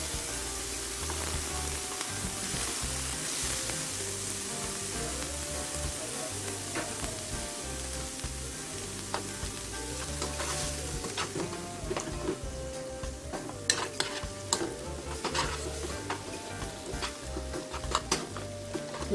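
Margarine sizzles in a pan for Jamaican pan-seared sliced fish, a constant frying hiss with scattered clicks and scrapes of a utensil, growing busier toward the end.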